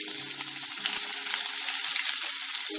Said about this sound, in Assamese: পিঁয়াজখিনি অকণমান সময় ৰঙচুৱা হোৱালৈকে ভাজি ল'ম।